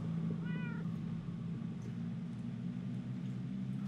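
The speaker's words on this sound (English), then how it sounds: "That almost sounds like... cats?" A cat gives a short, faint meow in the Minecraft Story Mode video game, heard once over a steady low ambient hum. Ambient noise continues afterward.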